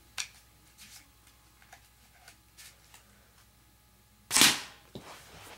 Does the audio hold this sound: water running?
no